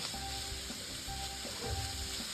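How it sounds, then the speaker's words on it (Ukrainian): Coarsely grated carrot and onion fry in a pan while being stirred, a steady close sizzle with occasional scraping stir sounds and a faint background hum, no talking. "помішуючи, обсмажуємо до м'якості моркви."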